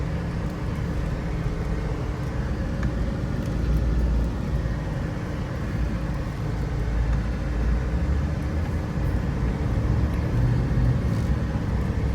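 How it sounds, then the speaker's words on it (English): The fuel-injected 5-liter Chevy V8 of a 1991 Cadillac Brougham runs after a cold start, a steady, even engine drone with no talking. "the Chevy fuel injected engine fires up cold, no problem at all"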